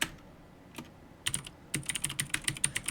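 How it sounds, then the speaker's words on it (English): Close, clicky typing on a computer keyboard while writing code, starting with a few scattered keystrokes and then settling into a quick, steady run of taps. "I'm just typing exit header into..."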